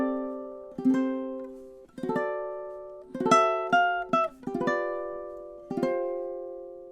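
A solo ukulele plays an arrangement of a song, strummed with the thumb alone: a handful of bright, ringing chords, each left to decay before the next, in an easy, unhurried rhythm with no voice.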